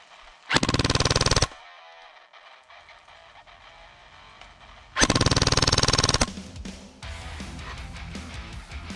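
A KWA Ronin T10 airsoft gun fires two loud, rapid full-auto bursts of about a second each during a rate-of-fire test, with a quiet mechanical hum between and after them.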